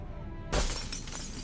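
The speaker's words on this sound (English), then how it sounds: "Sound of glass shards falling, heavy wings flapping once, fading fast." Glass shards fall in a single sharp shattering crash that starts suddenly after a quiet moment, then trails off into scattered tinkling debris, close and fairly loud.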